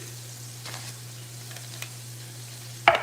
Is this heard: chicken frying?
yes